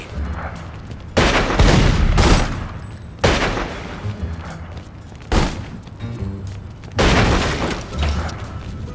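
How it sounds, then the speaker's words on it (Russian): Gasoline blast and gunfire in The Godfather II video game: several loud, booming bursts of shooting and explosion-like impacts arrive in irregular waves over steady game background noise. "Поджигателя отправляем взрывать бензин."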